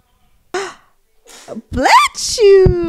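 A single sharp sneeze bursts out near the microphone, preceded by a quick breathy gasp and followed by a brief voiced exclamation.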